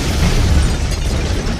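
A loud explosion sound effect: a heavy, deep boom with a rumbling, sustained roar that fills the whole moment without any voices.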